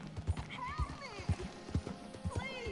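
Horse hooves clip-clopping in a PS4 video game, a steady trotting rhythm of dull thuds with a brief whinny, heard under someone talking over the game.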